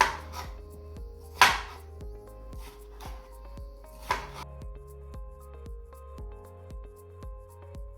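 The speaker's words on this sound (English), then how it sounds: "Next, I'm going to cut the tomatoes" A knife chops fresh tomatoes on a cutting board with steady, evenly spaced taps, about two per second, close and clear, with a couple of sharper knocks along the way and no talking.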